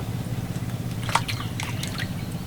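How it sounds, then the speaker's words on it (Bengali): Water drips and trickles off lote fish being rinsed in a basket in a kitchen, a few close, bright drops and splashes over a low steady background hum. "আর ধুয়ে রাখার জন্য এখানে একটা ঝুড়ি রেখেছি আরও একবার ভালো করে ধুয়ে নেব"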